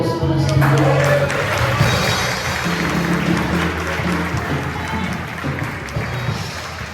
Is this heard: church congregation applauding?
yes